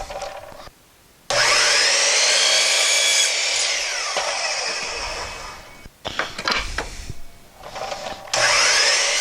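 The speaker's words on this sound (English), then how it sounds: "now I'm going to cut the corners off of these" Power saw cutting corners off wooden boards, a loud high whine that bogs as the blade passes through, with several separate cuts separated by short gaps and spin-down moments.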